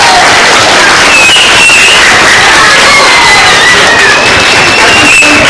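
At a school math bee, a crowd cheers and applauds the runner-up in a loud, steady roar of clapping with children's shouts and whoops mixed in throughout.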